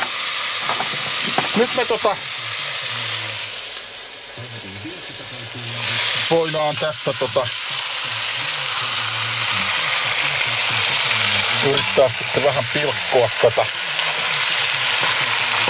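Food sizzles steadily in hot fat in a pan, a loud, continuous frying hiss with bursts of crackle as pieces are stirred and chopped, while someone speaks intermittently over it.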